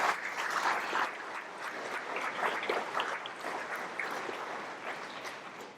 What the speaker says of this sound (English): How about a round of applause for Jackie Sears?